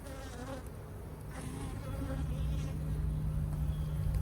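Honey bees buzzing steadily during a hive inspection, a dense low hum growing slightly louder over a few seconds, close by with no talk.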